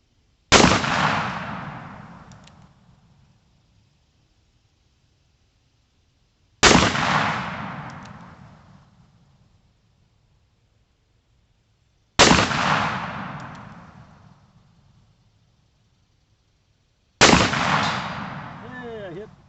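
Four loud, sharp gunshots from a Charter Arms Bulldog revolver in .45 Colt, each evenly spaced about five seconds apart and followed by a long outdoor echo decaying into quiet.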